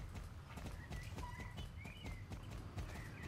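Horse hooves clip-clopping in a steady riding rhythm in the Star Stable video game, with faint bird chirps layered above the quiet hoofbeats.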